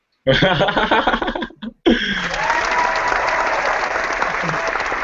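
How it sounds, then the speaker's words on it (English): After a brief snatch of laughing voices, a short break gives way to a steady wash of clapping that holds to the end, fairly loud and close. "Round of applause."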